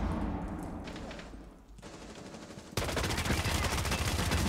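Sustained bursts of automatic gunfire in Rainbow Six Siege, a quieter exchange at first, then a sudden loud, dense volley of rapid shots that continues to the end.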